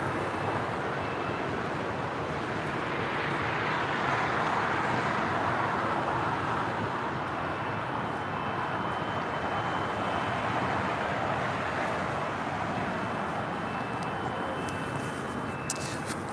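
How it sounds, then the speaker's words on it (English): A Sun Country Airlines Boeing 737-800 jet arriving at LAX, a broad steady roar of engine and rushing air that holds for the whole stretch, with a voice talking over it. "A Sun Country Airlines Flight 427 coming in from Minneapolis"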